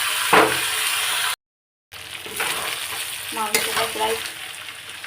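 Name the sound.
potatoes frying in a pan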